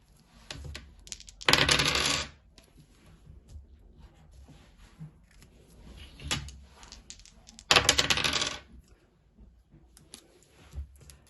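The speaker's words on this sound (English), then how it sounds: "Roll the dice quickly, see how fast you can add up the numbers." Dice rolled repeatedly for a children's maths game, two loud clattering bursts several seconds apart with smaller rattles and clicks between, close to the listener and without talking.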